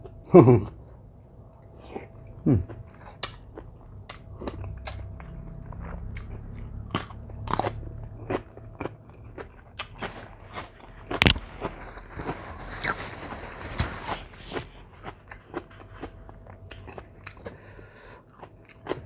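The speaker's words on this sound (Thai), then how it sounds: "เอาสำหรับมื้อนี้ผมก็มากิน ขนมจีนน้ำยาปลากับน้ำยากะทิเนาะผสมกัน" Close, crisp bites and crunchy chewing from someone eating rice noodles with fish curry and coconut-milk curry, recurring in irregular bursts with no talk over them.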